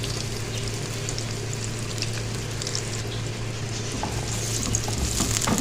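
Finely chopped onion frying in about a quarter cup of oil in a pan for dhaba-style chana dal, a dense continuous sizzle and crackle close up, with no one talking.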